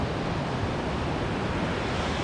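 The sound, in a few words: beach with waves at Ventura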